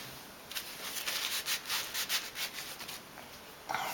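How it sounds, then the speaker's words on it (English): Hands are rubbed dry on a cloth, a quiet close series of soft brushing swishes in an uneven rhythm, with a brief sharper rustle at the end. "I'm going to dry my hands"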